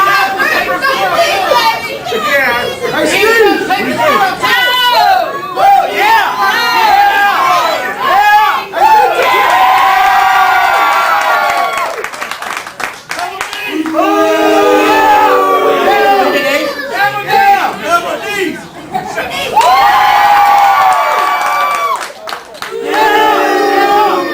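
Crowd at a CWF Mid-Atlantic professional wrestling event, loud and close, with many voices shouting, chanting and cheering in overlapping waves that briefly dip before surging again.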